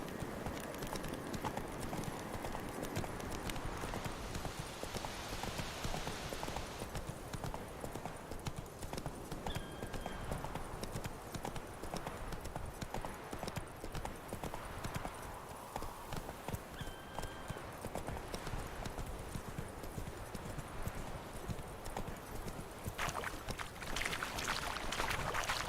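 Horse galloping in The Witcher video game, hooves clip-clopping in a fast, continuous rhythm for the whole stretch, steady and fairly close, over faint game ambience.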